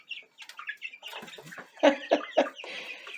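Young chicks in a new outdoor pen cluck and peep, a cluster of close, busy calls with a few louder clucks in the middle and no talking.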